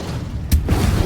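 Incendio fire spell cast in Hogwarts Legacy, a single brief burst with a low whooshing boom in the middle of a rumbling game background.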